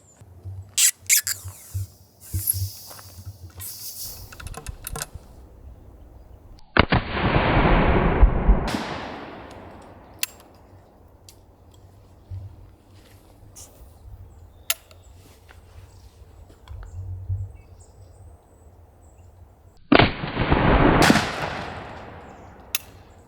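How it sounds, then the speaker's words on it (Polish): Two loud, booming shots from a smoothbore black powder pistol several seconds apart, each with a long rumbling echo fading away, and scattered faint clicks and handling noises in between. "musimy w ten sposób strzelić, żeby mieć porównanie z poprzednim strzałem"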